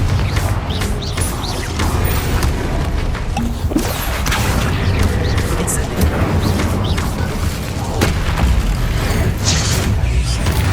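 Confringo spell blasts in the Hogwarts Legacy game on PS5 go off as heavy booms and crashes amid constant battle noise, with a voice talking over the dense, loud action.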